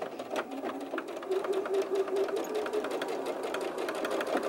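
Sewing machine stitching the corners of fabric for a box pouch, running in a steady continuous whir with rapid needle ticks, close and alone.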